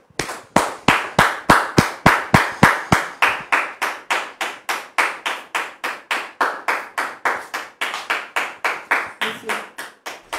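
Rhythmic group clapping from a French television talk-show studio audience welcoming Dame Rebecca onto the set, with steady, evenly spaced claps for about ten seconds and no voices over it.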